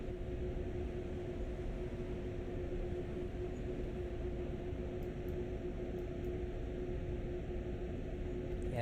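A freight train cruising on the fast lines of the Wuppertal–Hagen route in Train Sim World, a steady, even rumble of wheels and motor with a constant hum and no talk.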